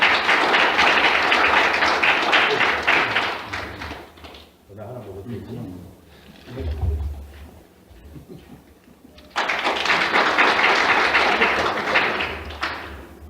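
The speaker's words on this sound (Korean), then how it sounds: "우리 박수로 같이" An audience at a church mission conference breaks into sustained applause, then quiets while a few thumps and murmurs continue. Clapping swells again loudly near the end.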